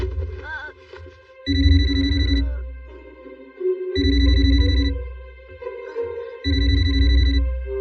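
Telephone ringing in a cartoon at night, repeated electronic ring bursts in a regular on-off pattern, loud and clear.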